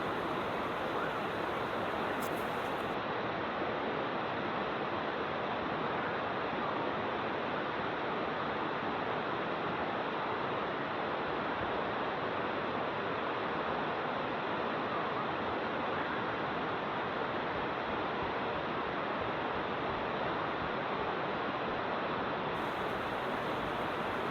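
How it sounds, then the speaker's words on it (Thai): Rushing water at Bua Tong waterfall on the footpath toward the lower tiers, a constant broadband roar that holds at an even level without pause throughout. "มาถึงบริเวณนี้สังเกตดูเสียงน้ำตกจะดังขึ้นนะครับ"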